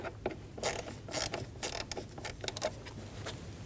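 Bolts being snugged down by hand on a 2012-2022 Volkswagen Passat vapor canister purge solenoid valve, giving a run of short ratcheting clicks and creaks that come close and fairly quietly in uneven bursts.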